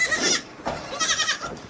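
Goats in a barn bleat in a few loud, close, wavering calls, one overlapping another in quick succession.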